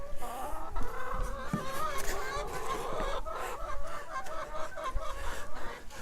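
Chickens cluck and squawk steadily close by inside a chicken coop, several birds overlapping, with faint rustling underneath.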